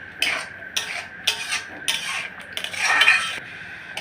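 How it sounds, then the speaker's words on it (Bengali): A spoon scrapes and stirs through ripe papaya barfi with semolina in a pan, making repeated soft scraping strokes at close range with brief pauses between them. "এই যে দেখুন, অনবরত কিন্তু নাড়তে হবে যেন দানা দানা না থাকে সুজিটা"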